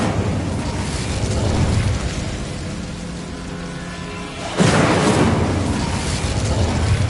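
Incendio fire spell cast in the video game Hogwarts Legacy, a sudden loud whooshing burst of flame that rises over a steady rumbling background and roars on for a few seconds.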